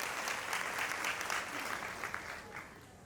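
A gathered audience applauds themselves during a talk on women and family, producing a steady, fairly quiet roar of many hands clapping that tapers off near the end.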